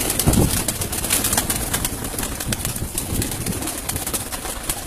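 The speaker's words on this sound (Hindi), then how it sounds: "ये कबूतर हैं सारे जो कि इनके परवाजी कबूतर हैं" Domestic flying pigeons coo softly on a rooftop in Sheikhupura amid a busy rustle of wings and shuffling, with steady background noise throughout.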